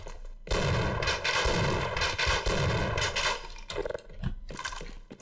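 Sustained loud gunfire blasts from a shotgun-wielding enemy soldier in the video game Half-Life, dense and continuous for several seconds, then tapering into a few separate shots.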